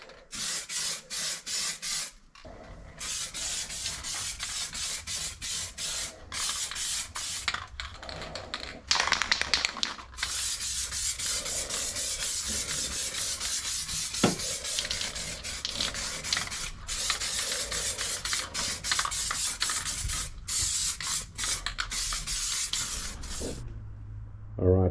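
Primer is sprayed onto a stand-up jet ski's engine bay in repeated hissing bursts, each with a short pause between, close and fairly loud.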